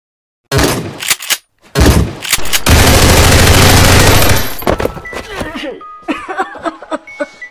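Loud gunfire in an animated Dangertopia Police episode, with a couple of sharp blasts followed by a sustained roaring burst, then scattered quieter shots and clatter with voices speaking.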